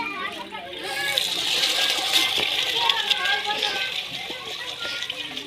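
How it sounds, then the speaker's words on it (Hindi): Water trickles and splashes steadily as it drains off soaked rice through a wooden strainer, with voices and children chattering in the background. "चावलों का पानी हम निकाल लेंगे।"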